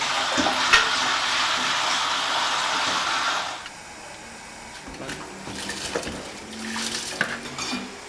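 Rice is rinsed in a bowl under running tap water, with a few seconds of steady gushing water and clinks, then softer swishing and sloshing as the grains are stirred by hand.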